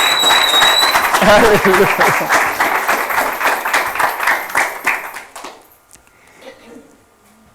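A church congregation claps loudly together while a preacher calls out over the noise, and the applause thins out and fades to near silence at the end.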